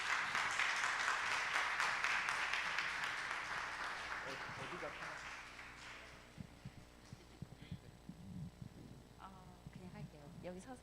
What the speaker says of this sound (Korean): 응원의 박수로 모셔보도록 하겠습니다